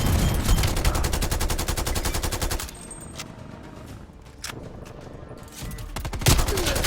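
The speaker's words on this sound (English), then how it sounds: "Hostile artillery targeting active. Artillery inbound." An artillery strike in Call of Duty: Black Ops Cold War brings loud rapid gunfire bursts, then heavy scattered blasts and crackling, and a renewed rattling fusillade near the end.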